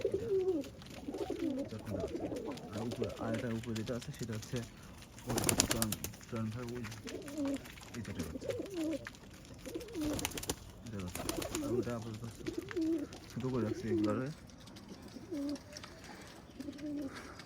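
Domestic pigeons coo softly and repeatedly nearby while a person talks over them. Occasional rustling breaks in.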